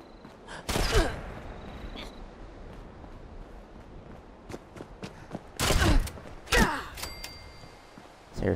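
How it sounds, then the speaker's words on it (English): Gunfire in the video game Fallout 76, a few loud bursts of shots near the start and again later, with quieter sharp sounds and game ambience between them. "shooting at me"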